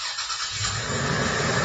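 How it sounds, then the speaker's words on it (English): Brief car engine sample, a short burst of dense, rough engine roar that swells slightly toward the end, loud and alone. "Let's import the car engine."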